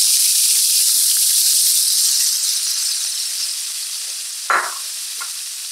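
Half an onion hits a hot skillet of bacon fat, with a loud bright sizzle and hiss that slowly fades, then a short clatter near the end.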